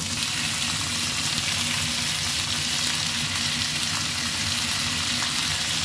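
Salmon head frying in a little oil in a pan, a loud, steady, close sizzle with constant crackling and no pauses.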